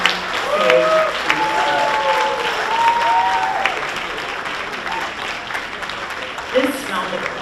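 Sustained applause from a dinner crowd at a Justice for All tenth-anniversary awards night, a steady dense patter of many hands with voices audible underneath throughout.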